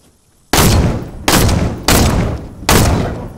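Four loud, close gunshots in a video game, spaced roughly evenly apart, each with a sharp onset and a long decaying tail, following a quiet start.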